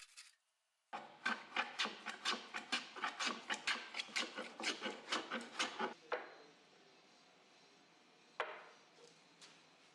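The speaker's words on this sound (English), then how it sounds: "I planed them flat" Hand plane shaving resawn wooden boards flat, a quick run of about eighteen rhythmic rasping strokes up close, followed by a pause and a single last stroke in a quiet room.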